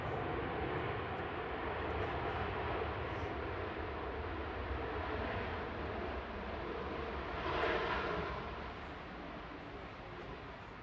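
An SAS Boeing 737 jet passing at Manchester Airport, a broad, steady engine roar that swells slightly near the end and then eases, heard from a distance with no talking.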